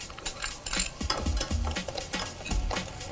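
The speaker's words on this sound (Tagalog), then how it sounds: "Igisa natin itong sibuyas." Onion and garlic sautéing in a pan for a canned tuna loaf, with busy spatula scraping, tapping and light sizzle close by, several small knocks against the pan and no voices.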